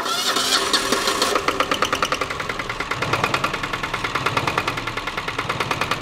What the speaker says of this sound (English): this is a cold start. We're gonna fire this thing up.